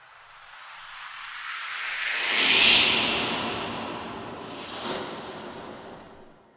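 A swelling trailer-music riser builds into a bright hissing whoosh that peaks and slowly decays, followed by a second softer swoosh, broad and airy with reverb tails and no voices.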